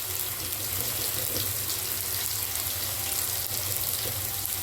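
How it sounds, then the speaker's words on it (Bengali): Water poured from a rinsed mixer-grinder jar into a pot of chana dal, a steady continuous splashing and trickling pour, close and fairly loud, with no talking. "দিয়ে দিলাম মিক্সির বাটি ধোয়া জল।"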